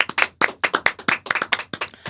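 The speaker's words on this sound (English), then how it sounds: "clap it up for the guest." A small group claps for a guest, a short burst of sharp, uneven hand claps close to the microphone, with no talking over it.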